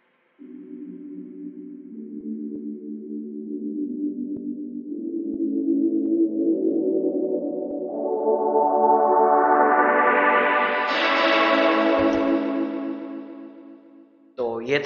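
Drop chord progression in an FL Studio future bass Bollywood remix with an automated low-cut filter: sustained, effected synth chords swelling and brightening over about fourteen seconds, then thinning out before a brief new hit at the end.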